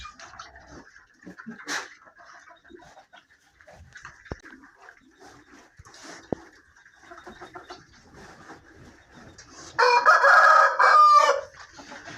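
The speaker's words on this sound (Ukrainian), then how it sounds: "Рембо, що то ти пізнувато оце виспівуєш?" A rooster crows once, loud and near, after a stretch of quieter clucking and farmyard noises.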